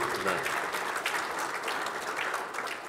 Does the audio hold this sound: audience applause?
yes